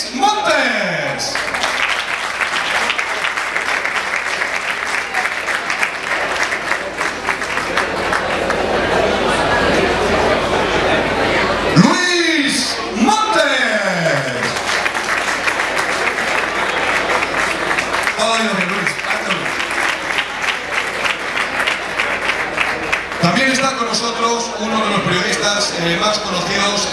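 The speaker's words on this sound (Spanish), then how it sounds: "¡Fuerte el aplauso para Luis Montes!" Applause for boxer Luis Montes at a tribute event, a sustained broadband clatter of many hands lasting throughout, with speech and crowd chatter running over it at times.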